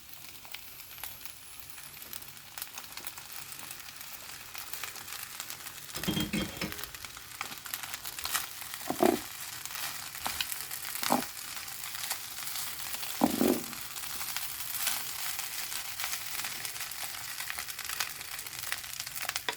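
Rice tipped into a hot pan with garlic, giving a steady, moderately quiet frying hiss over about twenty seconds, broken by a few sharp scraping or stirring clatters.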